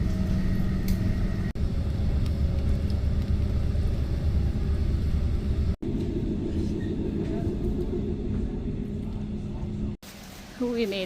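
A train through the Black Forest in Germany rumbles steadily with a low, continuous roar and rattling, broken by a few brief cuts.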